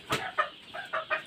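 Laying hens cluck in a short run of about five quick, close, moderately loud calls in a backyard flock, with no speech.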